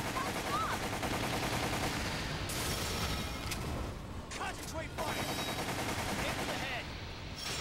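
Rapid gunfire in the Resident Evil: The Umbrella Chronicles video game, fired at a giant scorpion as a dense, continuous stream of shots under a busy game soundtrack, fairly faint overall.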